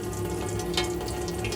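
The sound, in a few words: water running from tap in Adria Coral caravan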